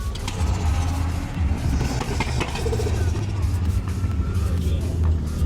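Turbocharged drag race car at a crowded Thai car festival, its engine roaring loudly and continuously with crackling backfires and turbo flutter layered over steady crowd noise and voices.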